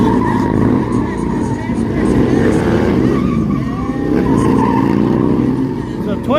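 Two Harley-Davidson Sportster motorcycles, a 2025 Sportster S and a 2008 twin-cam Sportster, drag racing at an event: a loud, continuous engine roar with revving and a tire-squeal-like screech near the end, crowd voices under it.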